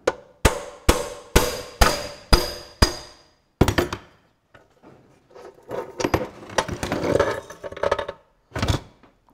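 An aluminium punch is hammered on a bench to knock out a steering box bearing from a Ferguson TE20 tractor, six sharp evenly spaced metallic blows, then a scattered clatter and rattle of parts shifting close by.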